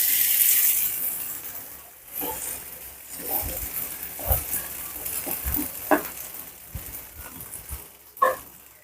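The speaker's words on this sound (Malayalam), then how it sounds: "നല്ലതുപോലെ ഒന്ന് ഇളക്കി ചൂടാക്കി എടുക്കാം. മെൽറ്റ് ബട്ടർ എല്ലായിടത്തും ആകുന്ന വരെ." Boiled corn kernels stirred through melted butter in a hot pan, giving a soft sizzle with scattered scraping stir strokes that come and go at close range, no voices.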